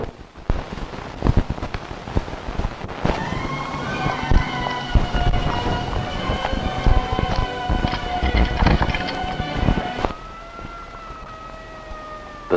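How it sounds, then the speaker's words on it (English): A vehicle siren sounds over rain, its wailing tones rising and sweeping for several seconds before settling into a steadier held pitch near the end, fairly loud against a patter of rain and scattered noise. "The sound of the siren warns drivers."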